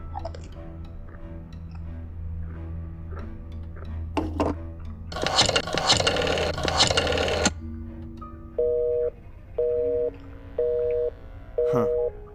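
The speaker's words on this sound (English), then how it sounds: "I just wanted to call my mother, but it was busy" In the Black Mirror 2 video game, a call to mother meets a telephone busy signal: four evenly spaced electronic beeps repeating at a steady rhythm, preceded by quiet room tone and a louder burst of noise.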